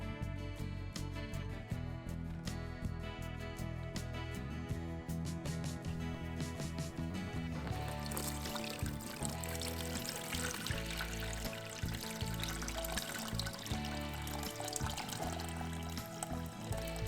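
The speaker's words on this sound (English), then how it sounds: "and then I strain most of the water out" Water strained out of blended teabag pulp pours and trickles steadily for the whole stretch, fairly loud, mixed with a constant layered tonal backdrop.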